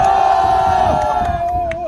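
Loud crowd cheering and shouting at an outdoor protest rally against a Syngman Rhee statue in Chilgok, Korea, a dense roar of voices with a sustained held shout running through it.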